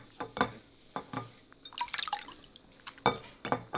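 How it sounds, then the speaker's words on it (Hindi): A smartphone, a new folding model, gets dunked and swished in water, giving irregular splashes, drips and sloshing bursts at close range, with no talk over them. "अब देखो पूरा फ़ोन डाल दिया मैंने पानी में"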